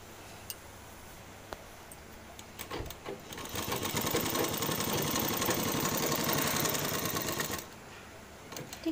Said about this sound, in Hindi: ये देखिए इस तरीके से मैं सिलाई लगा रही हूँ, बिल्कुल बराबर है